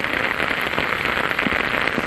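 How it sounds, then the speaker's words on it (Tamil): Heavy, sudden rain pours down in a dense, steady hiss across a Tamil Nadu town, with scattered louder drops and splashes on surfaces, loud and continuous throughout with no voices. "பல்வேறு பகுதிகளில் திடீரென மழை பெய்தது"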